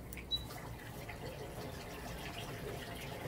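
A backyard waterfall runs in the background, a faint, steady trickle and rush of water heard alone.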